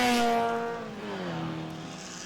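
Historic pre-1970s racing car or Formula Vee on the track at Winton, its engine note dropping in pitch as it passes close by and fades slightly, heard alone.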